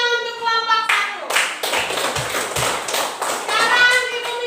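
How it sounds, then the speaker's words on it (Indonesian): A classroom of children claps for a group of classmates, a scattered burst of hand claps and taps with a few thumps, while a teacher's voice and children's voices sound over and around it. "sekarang sekali lagi tepuk tangan untuk kelompok 1"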